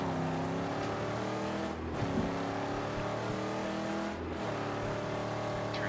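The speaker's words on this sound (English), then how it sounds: "It's a little bit loud, that engine revving in my ears." Car engine revving loudly and steadily in the Mad Max video game at night, a constant close roar with shifting pitch and two brief dips as the revs drop and climb again.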